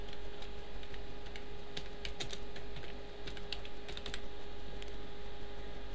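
Quick bursts of keystrokes on a computer keyboard, close and fairly faint, with irregular clusters of clicks over a steady electrical hum and no talking.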